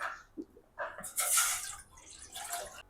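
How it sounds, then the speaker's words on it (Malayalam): Water is poured into a pan for boiling pasta, making a close splashing and trickling sound that swells in the middle and then tapers off, fairly quiet, with no speech. "അതിലേക്ക് നമ്മൾ വെള്ളമാണ് ഒഴിച്ചു കൊടുക്കേണ്ടത്"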